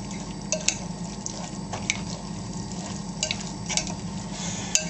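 Fattoush salad with a sprinkle of za'atar being tossed and mixed in a bowl, a steady wet rustle with scattered soft clicks and taps, close and continuous, no talking.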